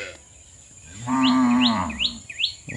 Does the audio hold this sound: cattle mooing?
yes